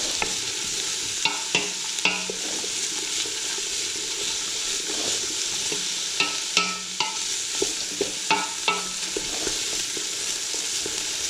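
Onion rings fry in a pan for a chickpea curry, a constant sizzle under repeated scraping strokes and taps of a utensil against the pan as they are stirred and separated, close by.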